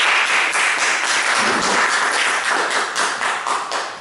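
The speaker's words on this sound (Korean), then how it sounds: "이재영 정치 박사님께서 멋진 강의해 주시는데 큰 박수 부탁드리겠습니다" An audience applauding a lecturer after a talk on politics, a loud, close and sustained burst of many hands clapping together with no voices over it, tapering slightly at the end.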